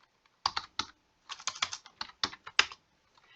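Quiet clicking of keys on a computer keyboard, several short bursts of quick keystrokes with brief pauses between them, close and alone.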